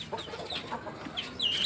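Soft clucking and high peeping from Sebright chickens with a brood of newly hatched chicks, faint and close, a few short calls closing on a brighter chirp.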